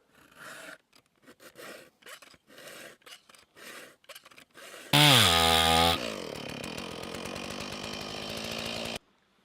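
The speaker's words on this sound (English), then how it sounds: "Got my saw stuck." Hand saw cutting through wood, a quick series of rasping strokes in short bursts, followed by a loud high squeal and a sustained harsh grinding tone, heard up close with no talk.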